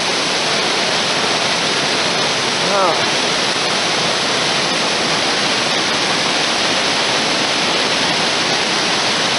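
Steady, loud rushing water fills the entrance of Wind Cave in Darby Canyon, Wyoming, a continuous broadband roar like a waterfall with no breaks, briefly marked by a faint voice-like sound partway through.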